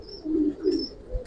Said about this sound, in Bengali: ধরেন তারপর কবুতর একটা ধরে দেখাই।